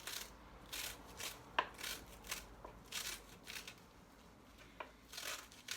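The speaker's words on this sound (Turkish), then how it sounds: "rokanın fazla yaprak kısımlarını atıp içine incecik doğrayalım" Soft, irregular knife cuts on a board, quick rustly fine chops of arugula leaves at close range, fairly quiet with short pauses.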